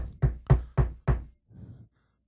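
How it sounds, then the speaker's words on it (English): Four firm, evenly spaced knocks land on a door, close and loud, followed by a softer scuffing thud before silence. "until you get that knock at the door."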